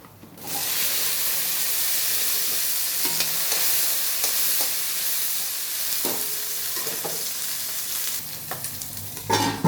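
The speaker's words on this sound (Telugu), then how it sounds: "ఇది మనకి పచ్చితనం పోయేంత వరకు వేయించుకోవాలి" Tomato and green chillies fry in a pan with a steady, close sizzle and hiss, broken now and then by stirring scrapes, with no talking throughout.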